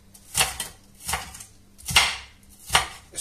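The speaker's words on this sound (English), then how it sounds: "I whistle while I chop." Four evenly spaced knife chops on a board, each a sharp crisp knock with a hint of clatter, close by and with no voices.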